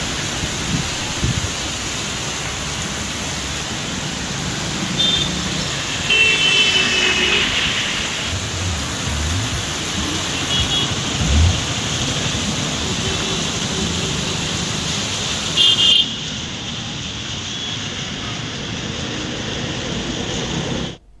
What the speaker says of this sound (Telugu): హైదరాబాద్ లోని పలు ప్రాంతాల్లో మోస్తారు వర్షం పడుతోంది.